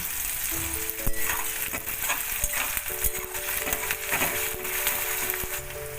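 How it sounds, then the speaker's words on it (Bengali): Nigella seeds and onion fry in mustard oil in a wok, making a constant crackling sizzle with bursts of stirring clatter and a faint steady tone in the background. "এর মধ্যে কালো জিরে ফোড়ন দিয়ে দিলাম একটু পেঁয়াজ দিয়ে দিলাম"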